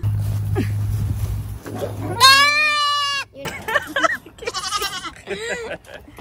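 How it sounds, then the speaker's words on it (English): Pygmy fainting goats bleat from the back of a car, a long wavering cry followed by several shorter nasal bleats close to the microphone, with a low engine hum underneath. "her real estate agent would get her pygmy fainting goats"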